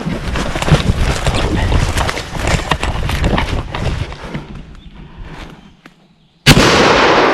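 A hunting shotgun goes off at a wild turkey on a spring hunt in eastern mountain country, heard as loud, sharp blasts after a stretch of rustling and movement, then a short silence before another loud burst at the end.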